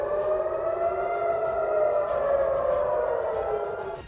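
An emergency air raid siren wails in Tel Aviv during missile attacks, one long, steady, rising-and-falling tone that rings loudly and continuously from a distance with no voices over it.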